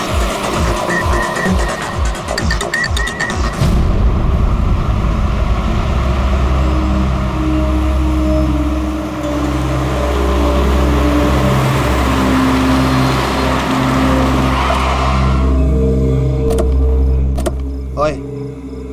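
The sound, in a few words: car driving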